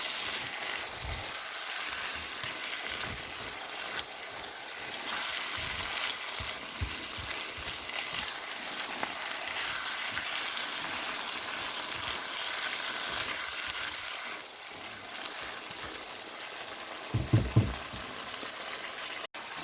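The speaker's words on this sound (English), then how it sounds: "So there's the pork. I just dumped in there. It's a little bit frozen still" Partly frozen pork pieces fry in a pan with a steady, broad sizzle that holds for most of the stretch, then eases slightly, with a few brief louder clatters near the end.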